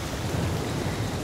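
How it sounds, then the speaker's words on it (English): A short, steady wash of rain with a low rumbling undertone, like distant thunder, sounds in the river-survival video game The Flame in the Flood, continuous and fairly loud with no voices. "Rain is coming."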